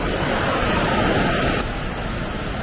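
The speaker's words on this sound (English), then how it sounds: "Look at that water go." Fast river water rushes through a national park, seen from a bank. The steady, loud broadband roar never lets up, and no voice is heard over it.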